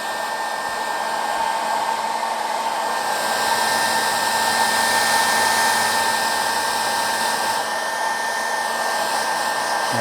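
A heat gun blows steadily and loudly for the whole stretch while shrinking a new wrap onto a vape battery, a constant airy whir with a fan tone underneath and no speech.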